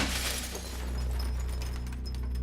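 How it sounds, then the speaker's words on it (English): Glass shattering and breaking, a single crash that lingers as a loud, dense burst of scattered fragments with no voices. "I heard the sound of glass breaking outside my house."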